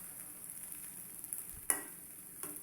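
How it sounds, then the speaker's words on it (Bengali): Two eggs fry together in a pan for a home breakfast, a faint, steady sizzle with one sharp clank of a utensil partway through. "আর এখানে ডিম ভাজি করছি"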